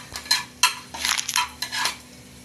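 Whole cinnamon, cloves and cardamom are stirred in a pan: a metal utensil clinks and scrapes against the pan in about five short bursts, close and distinct, with a faint sizzle underneath.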